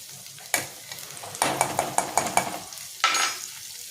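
A spoon stirs amla, green chilli and sesame chutney ingredients frying in a pan, with soft sizzling under a series of quick scraping strokes in a rhythmic run and a few isolated stirs around it.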